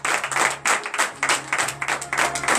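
A church congregation at a morning prayer service applauds and acclaims, with rhythmic bursts of clapping close by that swell and dip in waves, plus a faint low hum underneath.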